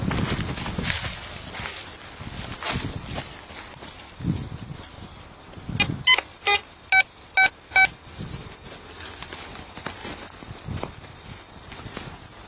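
A metal detector sounds over a target in a dug hole outdoors, giving a row of about five short, evenly spaced beeps mid-clip amid scuffing and handling noise.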